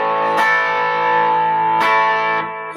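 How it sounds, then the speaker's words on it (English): A Leo Jaymz Telecaster-style electric guitar on its bridge pickup through a Timmy overdrive pedal rings out sustained, gritty chords, with strums landing about every second and a half, loud and close with no voices. "Let's try some bridge pickup and a little bit of Timmy drive."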